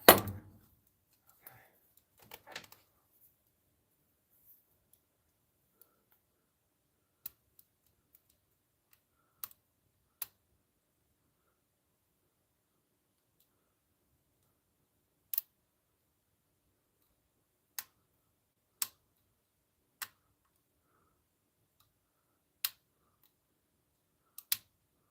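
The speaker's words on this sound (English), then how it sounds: "You hear the clicking from the serrated pins." Serrated pins of a Sargent lock clicking during lock picking: faint, sharp, isolated ticks spaced several seconds apart over otherwise near silence, with a brief cluster of soft handling noise at the start.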